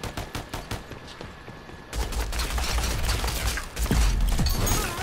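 Gunfire in the Rogue Company shooter game: rapid bursts of shots at first, then a dense, loud sustained barrage of automatic fire and impacts, with no voices.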